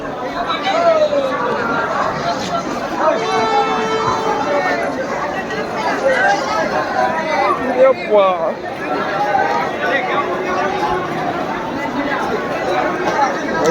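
A crowd of passengers packs the platform for the Katwa local train, a loud, dense babble of many overlapping voices with shouts and movement, close and continuous.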